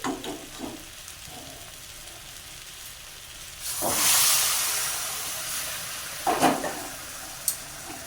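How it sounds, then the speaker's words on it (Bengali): Hot water poured into a pan of frying vegetable curry sets off a loud, sudden burst of steam and hiss that swells and then slowly fades, with a second short sizzling flare afterward. "গরম জল দিলাম"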